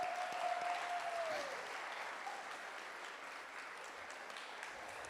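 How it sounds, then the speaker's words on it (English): Steady audience applause fills a talk venue, sustained and fairly dense, easing slightly after the first seconds and continuing to the end, with a brief tonal whine early on. "so big round of applause."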